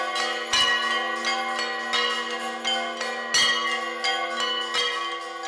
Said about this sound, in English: the temples were silent with just the sound of bells and prayers were to be heard